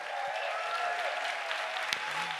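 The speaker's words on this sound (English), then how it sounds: "Please give a big applause for sound and light" An audience at a Berlin Science Week science slam gives sustained, even applause for the sound and light crew. The clapping is steady and moderately distant.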